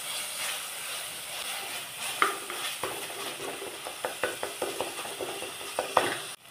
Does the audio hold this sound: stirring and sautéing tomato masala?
yes